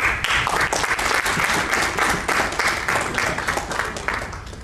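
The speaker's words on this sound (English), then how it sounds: "Does he deserve a round of applause?" Sustained applause from a sizable crowd at an IBM CFO event, dense clapping holding steady throughout with only a slight fade near the end.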